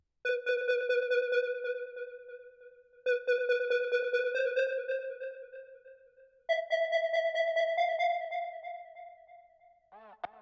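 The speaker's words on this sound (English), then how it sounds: "Then we have the beep" Three long, buzzy square-wave synth beeps sound one after another, each pitched slightly higher, followed by a brief warbling chirp at the end.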